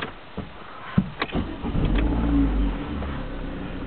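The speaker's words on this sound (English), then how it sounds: "so we'll go back to live sensor and start the engine." A 2010 Vauxhall Astra with a 1.6 litre Ecotec petrol engine starts: a few cranking clicks and thumps, then the engine catches and settles into a steady, fairly loud idle hum, heard up close with no talking.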